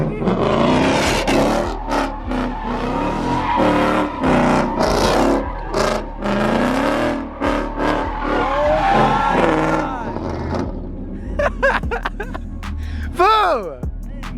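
A BMW E36 M3 drifts with screeching tire squeal and revving engine, loud and close, while people talk and shout excitedly over the car noise.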